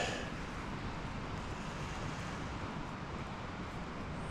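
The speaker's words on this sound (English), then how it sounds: "you can probably hear the wind" Steady, broad wind roars outdoors on a mountain campsite in the Crestones, a constant rushing noise with no breaks or talk.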